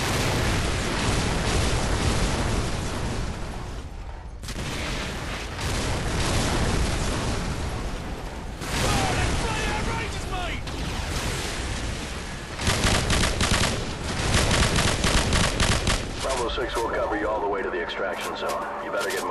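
Call of Duty Modern Warfare artillery strike, danger close, with loud rolling booms and blasts one after another and heavy rumble, while radio voices and shouts talk over the barrage.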